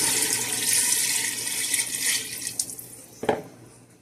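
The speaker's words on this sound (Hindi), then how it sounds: "तो पानी इसमें ऐड करते हैं।" Water pours into a pot of cooked desi chicken for shorba, a steady splashing rush that thins out into a few trickles and a final splash near the end, with no one speaking.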